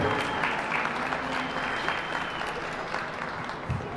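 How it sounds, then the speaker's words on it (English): An audience at a youth livestock show applauds goat showmen with a steady, moderately loud rattle of clapping that eases slightly toward the end. "give all 3 of these a big round of applause,"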